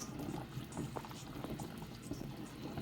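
Water boiling in a dumpling pot while cooking Jamaican dumplings, green bananas and plantains, heard as a faint, close bubbling and simmering that continues steadily throughout with small irregular pops.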